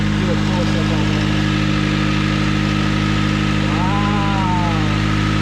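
A turbocharged Honda Civic with a D16Y7 engine runs steadily just after its first start, a continuous mid-pitched engine drone with a rising whine near the end, while people talk over it.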